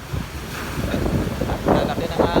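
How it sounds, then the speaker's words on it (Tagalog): Large waves and wind after a storm roll in at sea off a fishing boat, a rough broadband rushing with wind buffeting the microphone and surges of water swelling louder near the end. "Ang lalaki ng alon."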